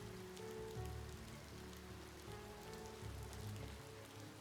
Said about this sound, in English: Ugh, I hate the rain so much.